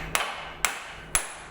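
Three sharp, evenly spaced hammer blows ring out close by on metal parts while a BendPak car lift is being installed, each strike followed by a short fading ring.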